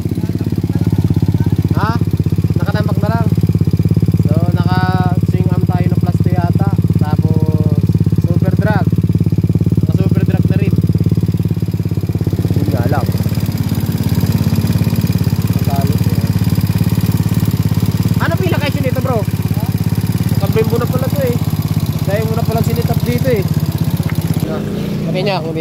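A Suzuki Raider motorcycle engine with a faulty bendix idles steadily and loudly throughout, with someone talking over it.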